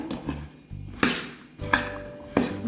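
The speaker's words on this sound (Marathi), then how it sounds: "आता हे सगळ्या गोष्टी आपण घालून झाल्यावर छान असं मिक्स करून घेऊया" A spoon working karvanda pickle pieces and spice masala together in a bowl, several distinct clinks and scrapes of metal against the dish with quiet gaps between, no speech.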